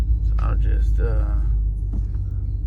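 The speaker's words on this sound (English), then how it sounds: "I'll keep quiet and just drive around a little bit, see what you guys think." Low steady road rumble inside a car driving at night, a constant deep drone beneath someone speaking close by.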